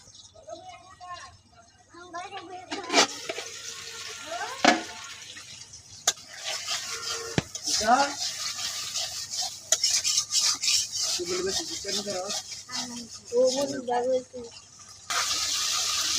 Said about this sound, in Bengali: মশলা ভালো দিয়ে কষাই নিচ্ছি